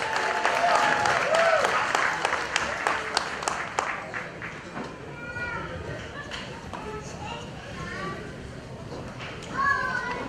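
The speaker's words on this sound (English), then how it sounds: "Ladies and gentlemen, round of applause" Wedding reception guests applaud the groom's father as he is welcomed up, a steady round of clapping with scattered children's voices and chatter mixed in, tapering off toward the end.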